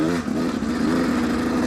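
A dirt bike engine revs steadily while climbing a steep, rough hill, a loud close droning buzz that dips briefly then holds high throughout.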